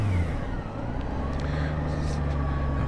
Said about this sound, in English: Get out in the lane, throttle through.